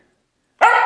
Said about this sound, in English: he's going to be barking a lot because today he learned how to bark on command